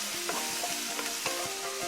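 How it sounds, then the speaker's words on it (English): Steady frying sizzle from carrots cooking in a pan with crackly hiss and a few stirring clinks, close and continuous for about two seconds. "You can hear it sizzling away."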